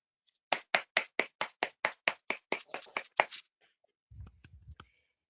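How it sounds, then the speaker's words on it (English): A dozen sharp, evenly spaced claps ring out in a quick steady rhythm, close and distinct, then fade into a few scattered faint taps and a low thump, with no talking, as a prize winner at a grand final is congratulated. "let's give a warm round of applause for Grace Pung Shiwe from SI Kota Kinabalu, Malaysia"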